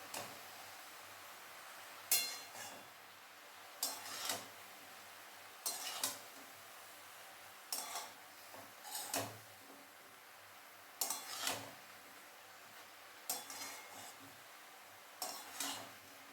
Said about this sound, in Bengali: আবারও নেড়ে নেব।